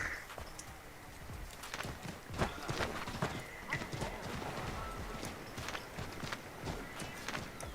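Horse hooves clip-clop rapidly in a galloping rhythm with an occasional neigh in Assassin's Creed III, while people talk over it at moderate volume.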